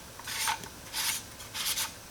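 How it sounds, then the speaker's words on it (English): A TRD gauge's locking collar is threaded by hand onto a dash, producing three short, quiet rasping rubs at regular intervals, close up and with no other sound. "all you need are your fingers, and you just thread it on to tighten it up against the dash"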